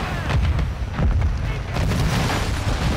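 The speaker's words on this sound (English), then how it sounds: "there's explosions and drill charges and all sorts going off right now" Rapid booms, blasts and gunfire from explosions and drill charges roll through in Call of Duty Modern Warfare II, dense overlapping bursts that continue steadily without a pause.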